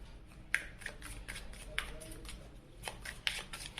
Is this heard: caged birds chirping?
no